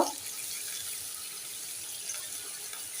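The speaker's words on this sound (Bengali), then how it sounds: "মশলাটা একটু কড়া কড়া হয়ে যাচ্ছে তো আমি একটু পানি গরম অ্যাড করে দিই" Hot water poured into a pan of frying spices makes a steady watery rush and hiss that starts with a brief splash and continues evenly, close and moderately loud, with no talking.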